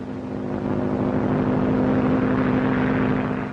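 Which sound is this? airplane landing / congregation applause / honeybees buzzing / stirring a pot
airplane landing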